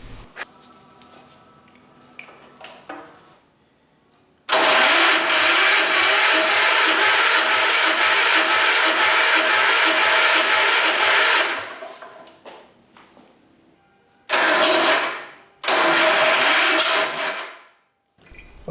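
An Allis Chalmers 310 garden tractor engine under restoration, being cranked until it fires: a loud, near, rapid rhythmic chugging run of about seven seconds, then two shorter cranking bursts, with quiet tinkering between.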